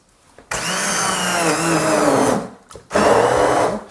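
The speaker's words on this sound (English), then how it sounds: "And then quite simply, we just puree those tomatoes." A blender purees raw whole San Marzano tomatoes, a loud whirring motor running for about two seconds, cutting out briefly, then roaring back on for a final burst.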